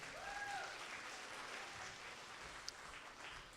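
Audience applause at a school spelling bee, a steady wash of clapping from a seated crowd that holds for several seconds at an even level, with a faint whistle near the start.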